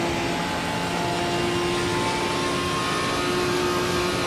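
A GT4 race car engine holds a high, steady whine at redline on the Paul Ricard circuit, a loud, continuous tone that stays constant without shifts.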